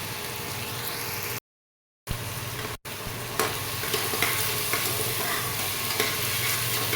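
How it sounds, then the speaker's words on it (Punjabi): Potatoes and mixed vegetables frying for pulao in a pan give a steady loud sizzle with stirring scrapes, broken by a short gap of silence; no talking. "ਆਲੂ ਵੀ ਆਪਾਂ ਜ਼ਿਆਦਾ ਨਹੀਂ ਫਰਾਈ ਕਰਾਂਗੇ ਇਹਨੂੰ 2 ਤੋਂ 3 ਮਿੰਟ ਲਈ ਆਪਾਂ ਇਦਾਂ ਹੀ ਫਰਾਈ ਕਰਾਂਗੇ"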